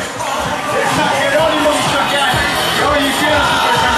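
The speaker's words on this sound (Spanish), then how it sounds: "Fuerte el aplauso para estos jóvenes" Outdoor parade crowd at a fair in Altamirano, with a loud, dense murmur of voices and scattered cheers and whoops rising over it, holding steady throughout.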